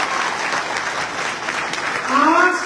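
An audience at a motivational seminar claps for a woman leaving the stage, a broad, sustained round of applause with a brief voice rising over it near the end.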